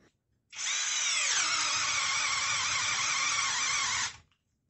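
A compact cordless screwdriver drill runs at high speed, around a thousand rpm, in one steady whine lasting about three and a half seconds, with a slight pitch drop early on, then stops, heard up close with no talking.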